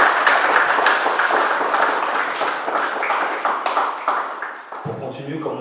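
An audience applauding two speakers at a community gathering: steady dense clapping throughout, loud and sustained, with a voice starting to speak near the end.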